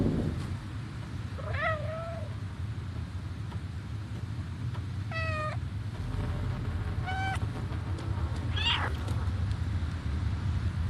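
Several meows from a cat in the video game Stray, spaced apart over a low ambient background. They are moderately loud, separate cries with rising and falling pitch, and a few sound strained and drawn out.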